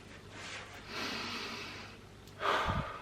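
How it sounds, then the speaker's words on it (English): Slow human breathing, a long airy inhale and exhale followed by a sharper, louder snort-like breath near the end, close and alone with no talk, in a talk on easing depression and anxiety through breath. "Breathing."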